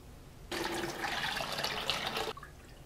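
Water rushes and swishes for about two seconds as rice is rinsed a third time in a pot, a steady close splashing that starts abruptly and stops just as suddenly.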